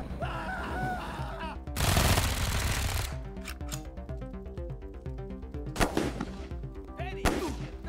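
Turret gunfire in the video game Wasteland 3, with a dense roaring burst near the start and later sharp single shots over a steady game music background.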